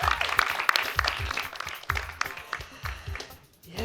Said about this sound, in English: Another round of applause for Silke.